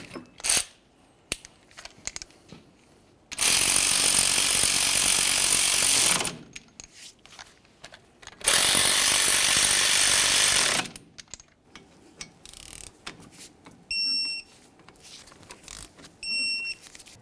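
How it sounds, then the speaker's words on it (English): Caliper slider bolts being tightened on a 2003-2011 Mercury Grand Marquis during a front brake job, with two loud sustained bursts of harsh mechanical rattling, each a few seconds long, separated by quieter handling noise and followed by faint short electronic beeps. "Once these are snug, torque them to 27 foot-pounds"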